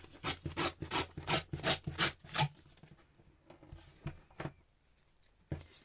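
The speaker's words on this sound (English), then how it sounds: "I'm just going to tear down that way" A paper edge is torn by hand to give a rough border on a Christmas zine page. It comes as a quick, rhythmic series of close rasping rips, then a few sparser tears with pauses between them.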